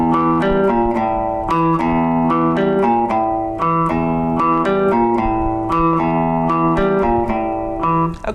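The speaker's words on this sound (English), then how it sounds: "Let me show you the first riff." Electric guitar plays the opening riff of a song, a repeating pattern of plucked low notes and ringing chords, close and clear with no talking.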